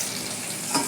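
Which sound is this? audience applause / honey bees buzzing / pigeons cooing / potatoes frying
potatoes frying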